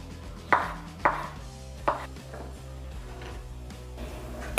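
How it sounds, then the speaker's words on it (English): Black olives being sliced on a cutting board: a few separate knife chops land at uneven intervals, close and clear, with a faint background hum and no voices. "Cut the olives into slices."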